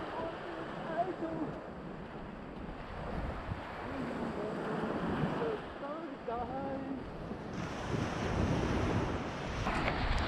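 Sea waves wash steadily onto a shore where people dig for shellfish by hand, with a loud, continuous surf and wind roar lasting throughout.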